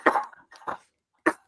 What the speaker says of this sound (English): Excuse me, I'm coughing now.